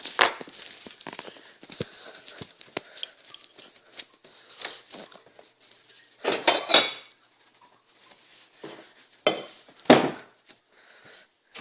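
A plate is taken out and handled in a home kitchen while making deviled eggs, with irregular clinks, clatters and scrapes of dishware, some louder bursts among quieter knocks, close by and with no talking.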